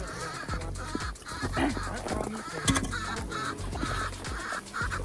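Busy chicken chatter fills the clip, with overlapping clucks and squawks from several hungry hens close by on a cold day and a steady rustle underneath.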